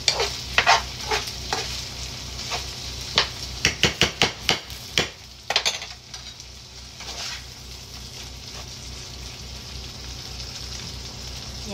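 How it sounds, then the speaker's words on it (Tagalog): Corned beef and onion sizzle in a frying pan while a spatula clacks against the pan in a burst of sharp, quick scraping strikes, then the steady close hiss of frying carries on alone. "Ginisa sa onion ang corned beef."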